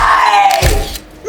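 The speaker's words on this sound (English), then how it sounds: "Perfect primal scream." A loud primal scream from a scene in the film Beetlejuice Beetlejuice slides downward in pitch, ends in a brief thud and then cuts off into near silence.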